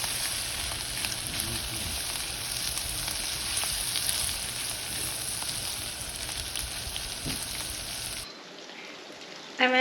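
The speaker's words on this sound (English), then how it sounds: "I'm adding butter to the skillet so it can sizzle." Filipino sisig sizzles loudly in a hot skillet with butter, a dense, steady crackle of frying that holds for about eight seconds before cutting off sharply into near silence.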